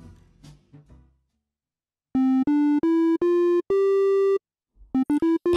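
Synthesizer oscillator with another waveform selected, playing a short rising sequence of sustained buzzy harmonic notes in clean stepped bursts, preceded by a few soft plucky sounds and followed by quicker repeated notes.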